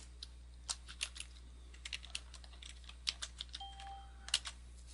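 Someone types a password on a computer keyboard, with quick irregular clusters of light key clicks close up in a quiet room.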